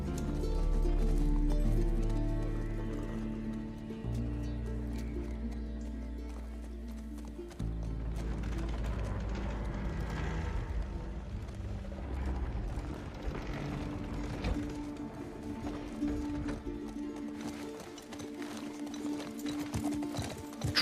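Horse hooves clip-clopping in The Last of Us Part 2 video game, a steady walking rhythm mixed under game music and ambience, with brief talk near the start.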